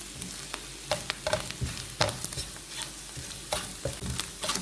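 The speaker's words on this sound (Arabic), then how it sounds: "راح اقلب كل القطع بشكل جيد لحتى تاخد من نكهة التومة" Small veal lung pieces frying in vegetable oil with garlic while being stirred, a close sizzle with repeated sharp scrapes and clacks of the utensil in the pan at an irregular rhythm.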